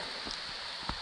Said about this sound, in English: Rain's just starting to ease a little bit.